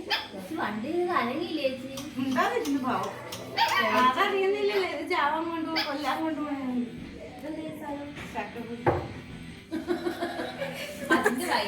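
A dog barks a few times amid lively chatter and chuckling voices, the barks short and fairly close.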